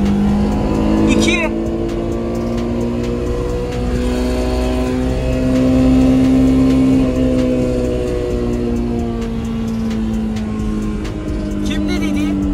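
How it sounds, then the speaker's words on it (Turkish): A Tofaş car engine drones steadily in second gear, its pitch rising and falling as the car accelerates and eases off, heard loud and close from inside the cabin with occasional clicks and rattles. "Bu araba ikinci viteste kaç yapıyor?"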